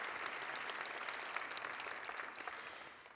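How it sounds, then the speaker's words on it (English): Audience applause at a virtual awards program in honour of a university president: a sustained, even patter of many hands clapping throughout, fairly faint and without cheering. "give him a round of applause as well"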